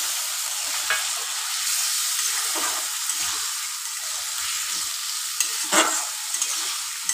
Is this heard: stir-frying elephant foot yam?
yes